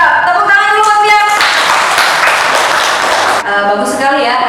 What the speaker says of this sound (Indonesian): Tepuk tangan dulu buat Fian.